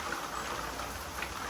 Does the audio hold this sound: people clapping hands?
no